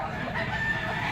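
Chickens cluck and a rooster crows close by amid a busy, noisy crowd of birds at a poultry market.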